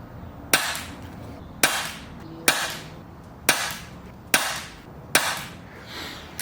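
Six shots from an air rifle firing hard lead pellets, each a sharp, close crack with a short ringing tail, spaced about a second apart with quiet gaps between and no voices.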